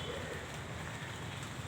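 Steady rain pouring down outdoors during a monsoon shower, a dense, even hiss of drops at moderate distance with no pauses or voices.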